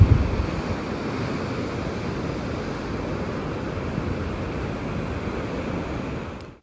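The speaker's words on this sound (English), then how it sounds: "I'll just let you listen to the waves for a bit" Ocean waves wash steadily onto the rocky Atlantic coast at Cabo da Roca, a continuous broad roar of surf with wind buffeting the microphone, fairly close and unbroken throughout, with no talking.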